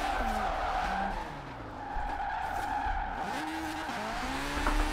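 Tires squeal continuously while a rotary engine whines and shifts pitch, up close and loud, as a car drifts through turns in Forza Horizon 4.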